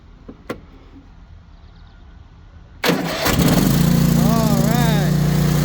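A Bad Boy riding lawn mower engine cranks and catches after a quiet start, then runs loud and steady close by, with a rising and falling whine over the engine drone.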